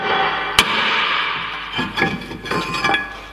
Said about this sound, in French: Avec un marteau pour décoller le disque.